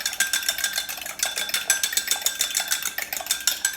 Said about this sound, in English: whisk your egg up